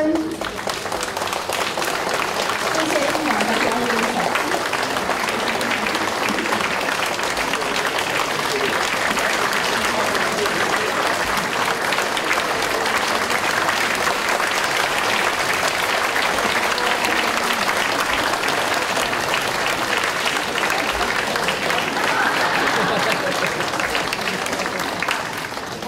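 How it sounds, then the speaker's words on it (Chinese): Warm, sustained applause from an audience greeting a choir's performance, a dense steady wash of clapping holding at full strength throughout with no breaks. "可以请大家再一次以热烈的掌声"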